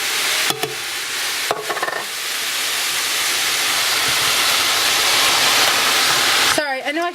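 Canned petite diced tomatoes stirred into a hot pot with carrots, a steady wet sizzle and hiss running throughout, broken by a few brief scraping clanks near the start and a sharp clatter at the very end.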